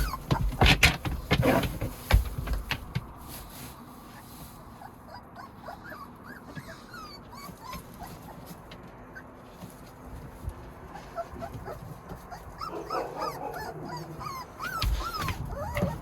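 Young West Siberian Laika puppies yip, whimper and bark in a close, busy litter, with sharp high yelps early and a long stretch of soft whining cries, plus occasional handling noises.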